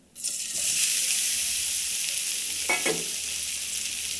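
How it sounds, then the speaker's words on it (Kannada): Soya chunks drop into hot oil in a pan and burst into a loud, close sizzle that continues evenly, with a brief stirring scrape partway through. "ಅದೇ ಬಂಡ್ಲಿಗೆ ಇನ್ನೊಂದು ಸ್ಪೂನ್ ಎಣ್ಣೆ ಹಾಕ್ತಾ ಇದ್ದೀನಿ ಸೋಯಾ ಫ್ರೈ ಮಾಡ್ಕೊಳಕ್ಕೆ"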